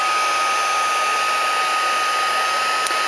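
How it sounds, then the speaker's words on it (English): An embossing heat gun blows hot air to melt embossing powder on vellum cardstock, a loud, steady, close whooshing hum that runs unbroken throughout. "Then let's take our embossing gun."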